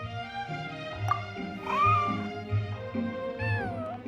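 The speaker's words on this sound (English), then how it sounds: "Here, kitty, kitty!" A white, fluffy cat in the Genshin Impact video game meows several times in close, drawn-out cries, each rising and falling in pitch, with no other sounds around them.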